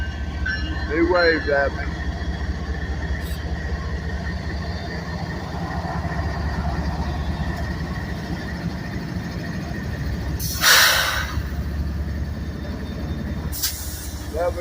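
CSX GPU-equipped diesel locomotives, including a CM44AC and an SD40-2, in Maxwell rail yard in Greenwood, SC, give a steady low engine rumble with two sharp bursts of air-brake hiss, under a man's brief speech.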